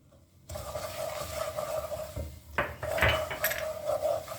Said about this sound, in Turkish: Unumu da attım kavuruyorum.